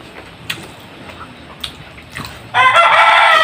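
A rooster crows loudly and nearby after a few quiet seconds with faint background clicks.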